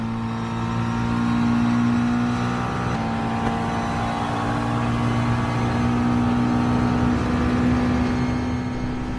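Race cars lapping the Monza circuit in Gran Turismo Sport, a steady, loud engine drone with layered tones from several cars running close together, holding high revs throughout.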